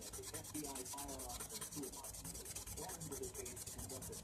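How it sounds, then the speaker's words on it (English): Sandpaper rubs steadily back and forth over a plastic surface to remove scratches, giving a quiet, even rasping rhythm of short repeated strokes with no voices. "when you're sanding this plastic, you have to hold the sandpaper in one spot for so many seconds"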